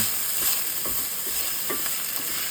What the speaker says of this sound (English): now we're just gonna saute this until just for a couple of minutes, not very long.